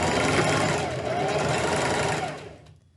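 A sewing machine runs steadily as it stitches a fabric face mask, a continuous dense mechanical whir close by that holds for most of the stretch, then slows and fades out near the end.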